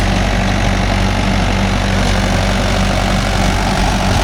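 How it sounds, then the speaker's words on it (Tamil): A Mahindra 415 DI tractor engine pulling a 36-blade rotavator in farmland, a loud, steady diesel drone with a deep low rumble throughout and no voices. "உழவு ஓட்டுறதுன்னா வந்து வண்டி சங்கடிச்சு ஓட்டிட்டு இருக்கிறான்"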